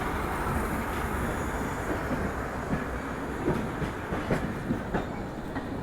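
Howrah–SMVT Bengaluru Humsafar AC superfast express running on rails: a continuous loud rumble with rhythmic wheel clatter and occasional sharper clicks as the coaches pass.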